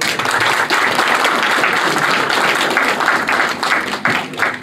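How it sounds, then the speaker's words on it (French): Audience applause at a 60th birthday celebration, a dense, steady wash of many hands clapping together, loud and close, filling the whole stretch without a break. "Applaudissez pour vous-même."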